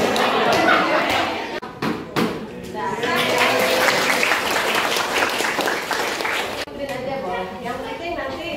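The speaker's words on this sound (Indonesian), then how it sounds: "Terima kasih untuk tepuk tangan." Audience at a school training session applauds loudly for several seconds, with a few sharp claps standing out at the start, then the clapping thins out while a voice speaks over the crowd.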